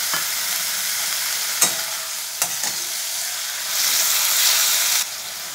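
A spice paste with green chilies and pureed tomato sautés in a pan for potol korma, giving a loud, steady sizzling hiss broken by a few sharp spatula scrapes, with the hiss swelling briefly near the end.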